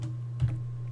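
A key is struck once on a computer keyboard, a faint, short click heard over a steady low electrical hum in a quiet room.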